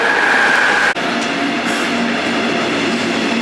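A train runs through a station platform in Berlin, producing a loud, continuous rumble of wheels and carriages close by, with one brief dip in the steady roar.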